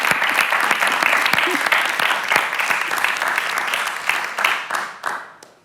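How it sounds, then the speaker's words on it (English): Warm crowd applause at a live night of storytelling, dance and song on Gadigal Land, full and lively at first, then thinning and fading out toward the end. "can I just please get a little bit of a round of applause"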